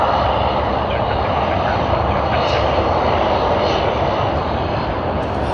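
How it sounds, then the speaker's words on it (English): A Dash 8 propeller airliner at Sydney Airport gives off a loud, continuous broadband roar that holds steady across the whole stretch, close and dominant. "We have the Dash 8."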